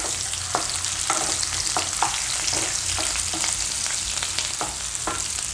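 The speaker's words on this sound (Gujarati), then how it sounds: "તો બધાય બટેટા આપણે નાખી દઉં આમાં. ને આને તેલમાં ફેરવી લેવું." Potato pieces are turned in hot oil in a pan for Gujarati palak dum aloo, giving a steady close sizzle with a regular series of scraping spatula strokes roughly every half second, and no voices.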